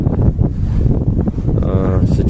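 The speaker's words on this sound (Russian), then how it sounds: "Друзья, ветер поднялся очень сильный второй раз." Strong wind buffets the microphone outdoors near a temple by a stream, with a loud, continuous low roar that gusts and surges throughout.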